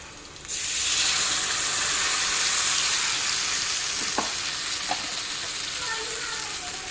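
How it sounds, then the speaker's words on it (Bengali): Katla fish sizzles loudly in hot oil in a pan, a dense bright hiss that starts abruptly as spices go in, with a few faint clinks and stirring taps over the steady frying. "এখন দিয়ে দিই মশলা"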